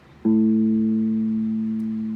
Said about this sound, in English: So we're going to be playing power chords.